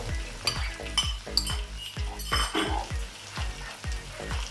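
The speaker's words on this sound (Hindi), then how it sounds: "अब इसमें चने डालेंगे।" Chickpeas hit a hot pan of frying chicken and sizzle, while a spoon stirs with a steady series of sharp scraping clacks against the pot, close and fairly loud.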